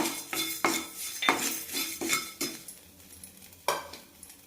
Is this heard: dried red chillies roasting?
yes